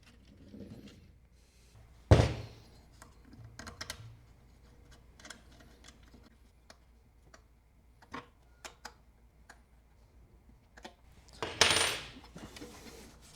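Tiny Allen screws being fitted on an N54 manifold PCV adapter for an N52 engine: sparse small metallic clicks and ticks, with two louder clinks standing out, close and quiet against near silence.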